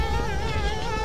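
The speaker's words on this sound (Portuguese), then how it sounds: "As abelhinhas ali." Bees in the video game Conker's Bad Fur Day give a close, continuous wavering buzz, a steady drone that wobbles in pitch throughout the short moment.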